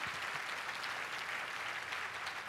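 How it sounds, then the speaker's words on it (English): An audience applauds for a woman named Rochelle, steady dense clapping throughout at moderate level with no speech over it. "give her a round of applause"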